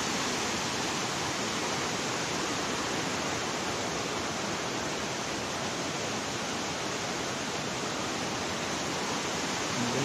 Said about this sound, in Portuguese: E toda essa quantidade de água, ela transborda exatamente nesse local.